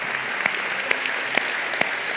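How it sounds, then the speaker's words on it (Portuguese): Loud, steady applause from a church congregation, a continuous wash of many hands with a few sharper claps standing out at regular intervals. "Você pode dar um forte aplauso?"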